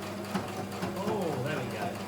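Sewing machine stitching over a thick fabric seam, a rapid mechanical whirr that labours and wavers in pitch, heard at moderate level for about two seconds.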